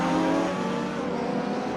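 A RennSport Porsche race car in RaceRoom, running a GTR4 race at Knutstorp, gives a loud, steady engine roar that eases slightly partway through, with no voices over it.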